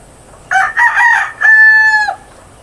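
A rooster with a pea comb crows once nearby, a single loud, clear call of about one and a half seconds that rises, breaks briefly, then holds a long sustained final note over quiet background.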